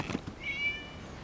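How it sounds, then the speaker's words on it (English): A single short cat meow in Genshin Impact, a faint, thin rising cry lasting under a second after a couple of soft thuds. "It was just a cat."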